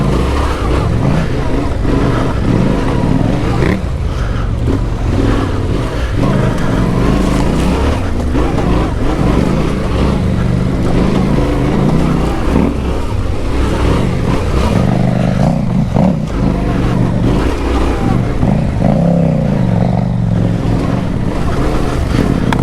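A Yamaha Tenere 700 motorcycle with its stock exhaust, running steadily on a ride, the engine's hum muffled and continuous beneath loud wind rush throughout.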